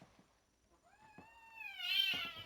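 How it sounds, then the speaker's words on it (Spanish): Cat meowing indoors, one drawn-out rising and falling meow that swells into a louder, harsher cry near the end, heard alone and fairly faint. "Un segundito que se me volvió loco el gato."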